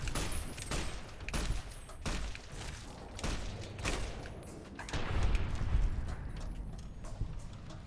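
Frantic gunfire in Fallout: New Vegas, a run of loud, irregular shots and booming impacts spaced a fraction of a second apart, continuing with little pause.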